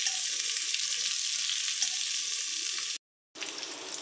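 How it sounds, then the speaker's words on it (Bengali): Loud steady sizzling of mango chutney frying in a pan over low heat, with faint stirring scrapes, cut by a brief silence near the end. "এইভাবে এটাকে নাড়াচাড়া করতে হবে। এটা কম আঁচ করে রেখে নাড়াচাড়া করতে হবে।"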